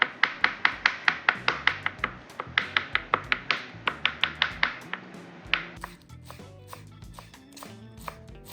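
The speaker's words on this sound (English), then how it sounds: "we need to chop some garlic to put it as a topping" A knife chops garlic on a cutting board in rapid, even taps, around twenty crisp close strikes in a steady rhythm, followed by scattered softer knocks and scrapes.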